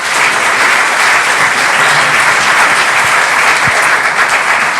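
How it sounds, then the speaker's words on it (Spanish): Steady, dense audience applause fills the room after a legal talk on amparo and habeas corpus, with continuous even clapping at constant loudness from start to finish and nothing else standing out. "por favor les pido a ustedes un fuerte aplauso como agradecimiento"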